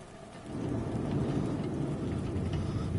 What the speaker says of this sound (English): These freaking thunder strikes is like spooking the crap out of me.